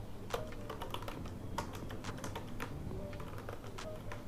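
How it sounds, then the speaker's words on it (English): Typing on a computer keyboard to enter a command in a Windows prompt, a quick burst of close, light key clicks in an uneven rhythm over a low background hum. "Type Python"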